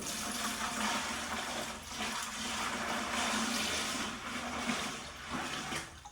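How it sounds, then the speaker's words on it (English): Warm water is poured into a five-gallon bucket drinking-water filtration system over cleaned filters, a continuous splashing, gushing flow of steady moderate loudness with slight surges and no talk. "And now we're gonna add some water."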